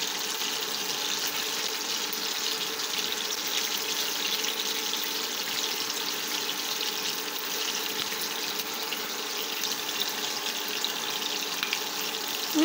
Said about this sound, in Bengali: তাই আমি এই কালো সর্ষেটা ভালো করে জল দিয়ে একটু